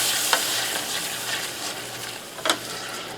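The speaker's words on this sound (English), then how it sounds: "just kind of doing a light saute there" Mushrooms sizzle steadily in butter in a hot pan, with a couple of sharp scrapes of a utensil stirring them.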